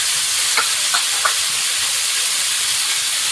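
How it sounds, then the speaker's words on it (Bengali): Food fries in a pan with salt and turmeric, a loud, steady sizzle and hiss filling the whole clip, with a few faint stirring scrapes near the start. "নুন হলুদ দিয়ে ভালো করে ভাজবো।"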